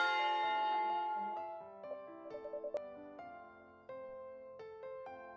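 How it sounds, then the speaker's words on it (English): A school lunch bell rings out as a series of clear, sustained chime tones with lingering overlapping resonance, moderately loud with no talking. "Hey, that's a lunch bell."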